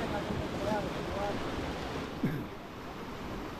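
Sea waves at a beach, a continuous broad rush of surf mixed with wind buffeting the microphone, steady and fairly loud, with faint voices briefly audible in the background.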